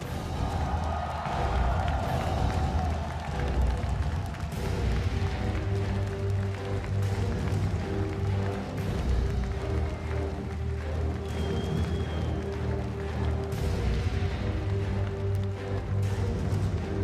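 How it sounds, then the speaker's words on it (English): Loud, continuous esports arena crowd roar at the Kiev Major 2017, cheering Virtus Pro, with dense layered voices and a steady music or PA hum underneath for the whole stretch. "The crowd have eyes and voices for only one team in this particular matchup"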